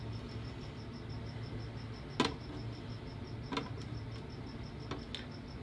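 Steady, rapid cricket chirping pulses on and on at a moderate level, with a few sharp taps and clicks breaking through.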